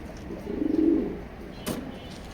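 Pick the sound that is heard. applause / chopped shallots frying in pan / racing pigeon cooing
racing pigeon cooing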